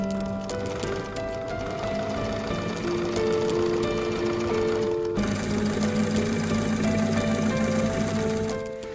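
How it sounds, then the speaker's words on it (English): A domestic sewing machine stitches dress panels together for a Vogue 1696 party dress, running in a steady fast mechanical whirr with a brief pause midway, close and alone without talk. "So let's sew these together."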